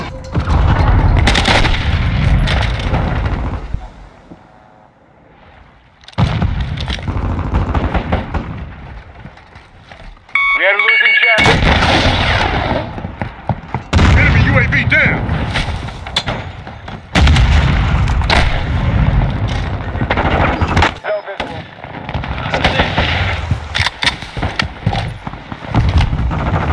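Gunfire and missile blasts in Modern Warfare 2 multiplayer Domination on the Zarqwa Hydroelectric map: loud, dense bursts of shots and booming impacts come in clustered waves, separated by brief quieter gaps.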